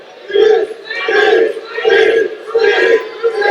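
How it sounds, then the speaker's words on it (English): Wrestling crowd at an AAW Epic independent pro wrestling event chanting "beef" in loud, rhythmic repeated bursts, roughly four chant cycles echoing through the venue. "The crowd chanting beef."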